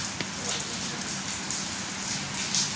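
Soft, steady patter of light rain falling in Mumbai on a dark morning, with scattered drops ticking close by and a low rumble underneath.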